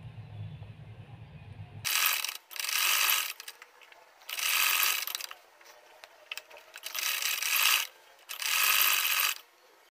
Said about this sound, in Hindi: इसको हमने इस तरह रख के इस पर सिलाई लगा देनी है।